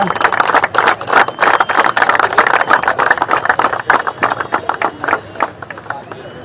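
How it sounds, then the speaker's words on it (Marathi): A crowd claps loudly and continuously at a Shivaji Park Gymkhana cricket event in Mumbai, a dense patter of hands with some cheering mixed in, close and sustained throughout. "जोरदार टाळ्या आपण वाजवूया."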